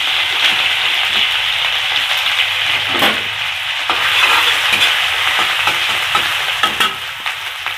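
Ginger and asafoetida sizzling in hot oil in a pan on a gas stove, a loud, close, continuous hiss with crackling spatters and a few stirring scrapes throughout.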